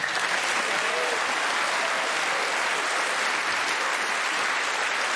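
Snooker crowd at the UK Championship applauding a classy break, a steady, sustained wash of many hands clapping together, even in level and unbroken from start to finish.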